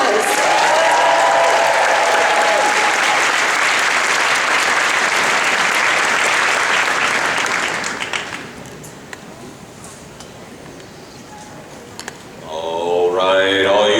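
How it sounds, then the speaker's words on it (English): Convention audience at Dragon Con 2016 applauding interviewer Aaron Sagers, a loud, dense round of clapping and cheers that drops off sharply midway to quieter murmuring before swelling again at the end. "Let's give him a round of applause"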